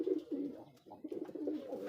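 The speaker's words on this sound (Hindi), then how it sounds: "ये कबूतर भी मस्ती दिखा रहे हैं।" Pigeons of a sky-blue fancy breed coo in soft, repeated low throaty phrases close by, a steady rolling murmur of several birds in a backyard enclosure.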